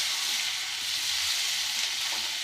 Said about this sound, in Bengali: পেঁয়াজটা, টমেটোটা, ক্যাপসিকামটা এগুলো দিয়ে হালকা ফ্রাই করব।